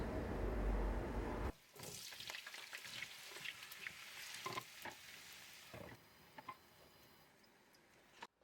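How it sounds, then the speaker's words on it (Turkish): Potatoes sizzle and crackle steadily in hot oil, with a loud rush at the start and then a softer, continuous fry broken by small pops. "Sıcak yağ patatesleri alarak kızartıyorum."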